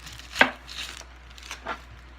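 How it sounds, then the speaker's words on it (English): A knife chops vegetables on a cutting board in a kitchen, making a few separate close, crisp strikes and slicing sounds, with no talking. "chop off the top, chop off the bottom, slice through"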